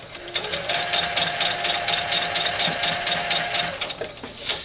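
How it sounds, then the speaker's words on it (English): A sewing machine runs steadily, stitching long layers of fabric held with pins: a continuous fast mechanical whir with rapid needle ticking, close and loud throughout, no speech. "for the most part sewing machines are built to go over the needles"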